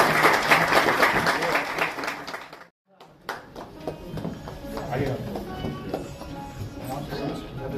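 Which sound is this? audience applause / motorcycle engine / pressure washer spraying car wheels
audience applause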